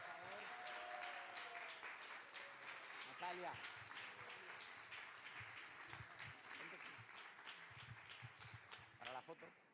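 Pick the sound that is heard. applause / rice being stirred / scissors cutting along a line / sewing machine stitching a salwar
applause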